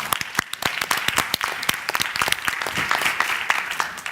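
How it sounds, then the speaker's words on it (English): Audience applause at a conference session, a loud burst of many hands clapping with distinct sharp claps in a dense, steady rhythm that continues throughout. "Round of applause for that, I think."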